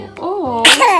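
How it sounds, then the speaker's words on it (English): A young baby gives a single small sneeze near the end of a short moment of soft infant vocalizing, close and fairly loud. "Oh, sneeze again."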